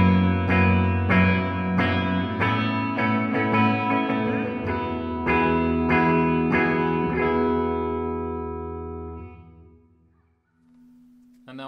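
Open chords on an electric guitar, strummed with a flat pick, ring out in a slow series of bright full strums drenched in reverb, then decay into a long fading tail, with no talk.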